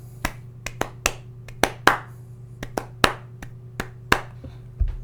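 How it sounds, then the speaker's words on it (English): Bare hands clap out an uneven, syncopated rhythm in a studio, a dozen or so sharp, close claps spaced irregularly over a low steady hum. "Sometimes I just try to clap some interesting rhythm on my hands"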